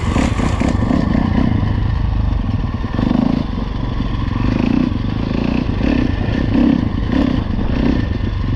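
A 2015 Husqvarna FC350 dirt bike engine warming up, running steadily with a continuous rough mid-low drone and faint rhythmic swells, close and fairly loud throughout with no talking.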